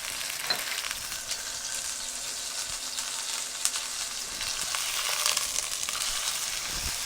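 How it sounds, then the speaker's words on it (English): Meat sears in hot oil for sauerbraten, a loud, steady crackling sizzle with occasional sharper pops and a few stirring scrapes, heard alone throughout. "we're just searing it up on either side, just to give it a little bit of extra caramelization"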